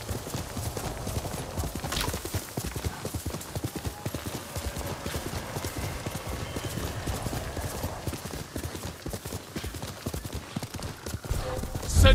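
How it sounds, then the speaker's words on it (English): Steady, rapid hoofbeats of a galloping horse in Ghost of Tsushima pound on continuously with a faint whinny, rhythmic and close, with no talking over them. "You're a good horse, Nobu."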